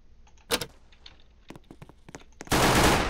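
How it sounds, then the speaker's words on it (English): Shotgun blasts in the Strucid battle royale video game: a sharp loud shot, then a spaced series of smaller cracks, ending in a long loud burst of noise. "Shotgun."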